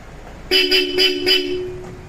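Four short, bright horn beeps sound in quick succession, close and loud, with a faint engine hum underneath.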